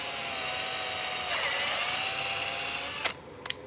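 An electric drill bores into a pump rotor (impeller) from a Cazaux Oenoflex 200 wine pump, giving a close, steady high whine for about three seconds before it stops abruptly, followed by a short clack.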